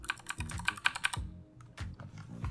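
Ducky mechanical keyboard with Cherry MX Green switches and Ducky keycaps, typed on up close in a quick run of crisp clicky keystrokes, a brief pause, then a few more sharp clicks; no talking.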